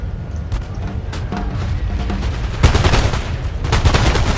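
Massed musket volleys crackle in the video game Napoleon: Total War as line infantry, including Coldstream Guards, pour flank fire into enemy lines, a dense rattling fusillade that swells into louder bursts near the end.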